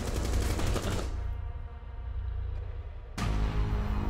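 Automatic weapon gunfire in Rainbow Six Siege, with loud rapid bursts at the start, a pause with a faint ringing tail, then another burst of fire at the end.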